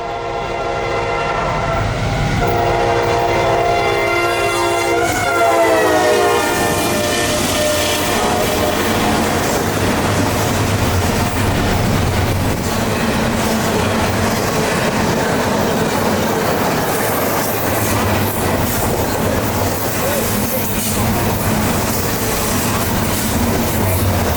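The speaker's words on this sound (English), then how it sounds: "these rebuilds were wide open and this train was full track speed" A Norfolk Southern freight train with rebuilt locomotives running wide open passes at full track speed, horn sounding early, then a long loud steady roar of wheels and cars rolling by.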